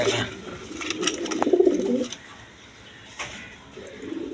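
Rasgolla-breed pigeons coo at a pigeon seller's stall, a soft throaty burst rising in the middle, with quieter calls later over a steady murmur of background noise.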